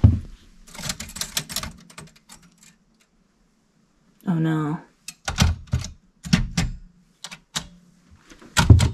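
A typewriter on a Texas porch gives a burst of rapid key strikes, then a few separate loud clacks and thunks with gaps between them, close up, with brief talking and laughter in between.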